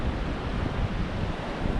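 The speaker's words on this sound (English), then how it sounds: "although the wind probably sounds bad" Strong wind roars across an exposed Northumberland beach at Cambois, buffeting the microphone. Surf rumbles beneath it in a dense, continuous wash with no talking.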